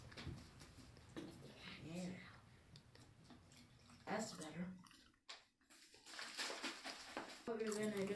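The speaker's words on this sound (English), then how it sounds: "So now we are gonna pour some water in here." Water is poured into a bowl that already holds shampoo, giving a faint splashing trickle that comes and goes while people talk over it.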